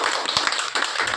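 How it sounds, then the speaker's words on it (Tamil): A crowd applauding a film director, a dense, steady wash of many hands clapping close and loud with no pauses. "அதற்காக நாங்கள் முதல்ல இயக்குநருக்கு மிகப்பெரிய ஒரு கைத்தட்டலை"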